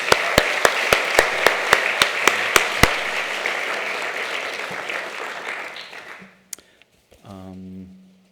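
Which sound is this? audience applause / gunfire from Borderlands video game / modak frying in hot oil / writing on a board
audience applause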